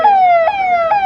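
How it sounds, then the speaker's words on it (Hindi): A loud, close ambulance siren wails in repeating falling sweeps, each cycle lasting under half a second, with no talking. "जा रही है, एम्बुलेंस जाने देंगे"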